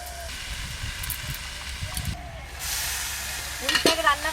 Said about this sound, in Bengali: চাপা দিয়ে দিয়ে একটু ভালো করে ভেজে নেব।